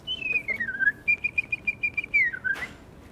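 A person whistles a bird imitation in a pediatric emergency room, a clear, high warbling tune that dips and trills for about two and a half seconds and ends with a brief rustle.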